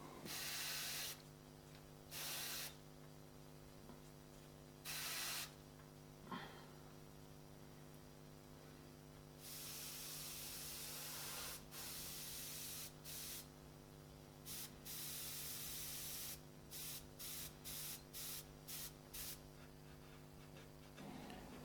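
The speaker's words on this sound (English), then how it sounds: "I'm just spraying through the wires as we did in the beginning" An airbrush sprays paint through wire stencils onto a pet portrait, giving soft hissing bursts that start and stop repeatedly, some long and some short, over a steady low electrical hum from the compressor.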